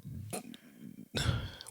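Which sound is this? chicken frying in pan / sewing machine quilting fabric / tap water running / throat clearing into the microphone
throat clearing into the microphone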